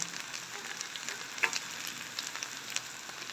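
Chicken for chicken rice sautés in a pan with a soft, steady sizzle, quiet and continuous, marked by a few faint crackles and a brief clink of a spatula.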